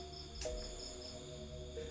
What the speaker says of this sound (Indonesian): Cuma suara jangkrik yang nemenin dia